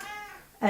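A pet cat meows loudly and close by near the end, after a stretch of someone talking.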